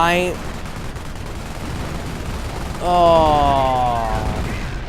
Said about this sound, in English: What kind of artillery was that?